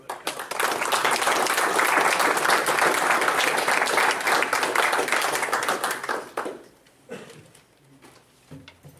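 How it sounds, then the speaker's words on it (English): An audience breaks into sustained applause for a guest speaker at a history lecture series, loud, dense clapping for about six seconds before fading into scattered claps and room murmur. "Please give me a round of applause in welcoming Dr. Mary DeCredico"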